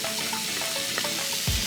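Chicken cubes, carrots and potatoes sauté with onion in a hot pan, a steady close sizzle with a faint clink of stirring near the end.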